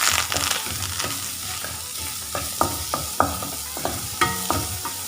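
Finely chopped medium onion frying in a pan for baby crab soup, a constant sizzle broken by sharp, irregular spoon knocks and scrapes as it is stirred, close and alone.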